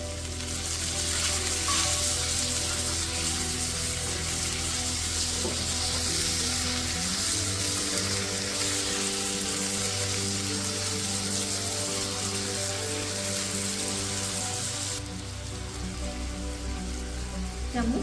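Chopped tomatoes sizzle steadily in a pan for matar paneer, a loud continuous hiss with some faint background tones.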